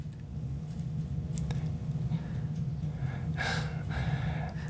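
A short snorting sniff rings out, followed by a second breathy snort, set against a steady low background hum.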